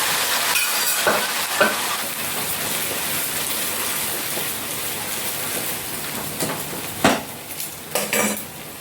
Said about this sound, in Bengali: এখন আমি পাতাটা ভালো করে মিশিয়ে দিচ্ছি চামচ দিয়ে